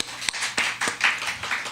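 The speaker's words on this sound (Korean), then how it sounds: "우리 소희자매, 박수 한번 보낼까요?" Church congregation at a family worship service clapping in welcome, a brief burst of scattered hand claps from a small group, fairly close and moderately loud.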